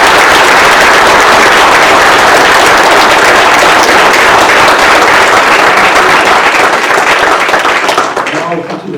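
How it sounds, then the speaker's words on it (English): A large audience at a Monterey County board meeting gives a long burst of applause, dense and loud clapping sustained for about eight seconds before tapering off. "If we give a round of applause, everyone."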